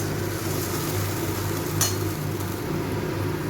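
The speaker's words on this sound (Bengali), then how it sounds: "তিল, টমেটো আর আদাটাকে যে বেটে রেখেছি, এটা আমি এর মধ্যে দিয়ে দেবো। এটা একটু ভালো করে আমি কষিয়ে নেব।" A ground paste of sesame, tomato and ginger fries in a hot pan, giving a steady low sizzle throughout with one brief sharper crackle near the middle.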